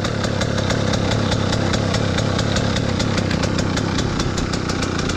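A KTM motorcycle engine with a leak at the cylinder idles loud and close, a steady rapid mechanical chatter with even ticking pulses and no break, and no voices over it.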